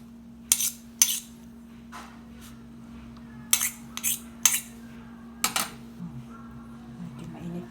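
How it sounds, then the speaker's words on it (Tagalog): A utensil stirs a warm kimchi mixture to cool it, with a series of crisp metallic clinks and scrapes against the bowl, irregular and close, over a low steady hum. "Gaduhin muna natin na lumamig na siya bago natin siya lagyan ng mga ingredients niya"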